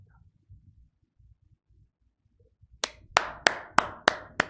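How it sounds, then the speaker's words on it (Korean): Hands clapping with joy during a Sunday sermon at a church: six sharp, loud claps in a steady rhythm after a stretch of quiet, faint low rumble. "너무 기뻐서 박수 쳤어요."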